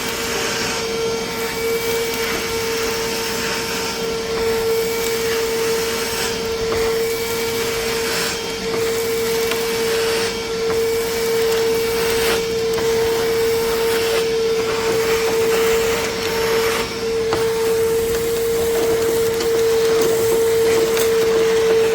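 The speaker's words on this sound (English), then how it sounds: "see if it'll suck this sand up" A Bauer 20V 3.5-gallon wet/dry vac runs steadily up close, its motor drone holding one pitch for a long stretch while sand and small rocks from a truck bed rattle and clatter through the hose in irregular bursts.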